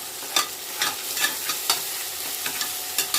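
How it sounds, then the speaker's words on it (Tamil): Tomatoes and green chillies being sautéed in a pan for a grandmother-style biryani, with a steady sizzle and regular scraping stirs of a spoon roughly every half second, close up and without talk. "இப்போ அதை நல்லா வதக்கணும்."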